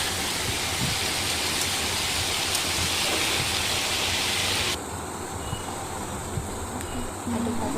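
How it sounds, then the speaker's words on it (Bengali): Steady rain falls outdoors, a dense even hiss that stays loud throughout, with its bright upper wash dropping away partway through while the patter continues. "একটু বৃষ্টি চলে এসেছে"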